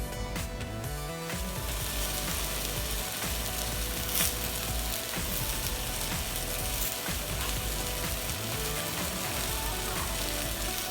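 Garlic, onions, serrano chilies and tomatoes roast on a stovetop for salsa, giving a steady close sizzle and crackle with scattered pops and ticks throughout.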